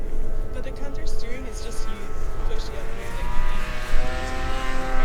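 A snowmobile engine revs hard under heavy throttle outdoors, a loud sustained whine with rising and falling pitch, while people talk over it.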